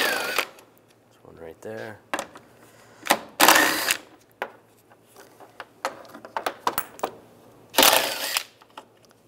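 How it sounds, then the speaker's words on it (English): A ratchet turns a 10 mm socket to remove bolts on a 1999-2005 Volkswagen Jetta during radiator work, giving short bursts of clicking and several sharp metallic clacks, with a brief spoken word. "We're going to take these bolts out, use a 10 millimeter socket."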